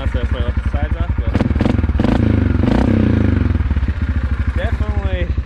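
A Yamaha Grizzly 450 ATV fitted with an HMF Performance exhaust runs loud and close, its engine pulsing in a rapid throbbing idle that swells briefly in the middle, with voices talking over it.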